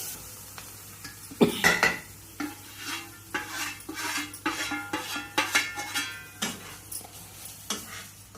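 Peanuts and cumin seeds roasting in a pan for jowar-flour upma, with repeated scraping stir strokes and light clinks of a spoon against the pan, close and clear, no talk.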